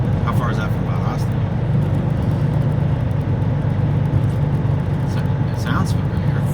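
A semi-truck hauling a firetruck rumbles steadily while it drives, giving a constant loud engine and road drone throughout, with people talking over it.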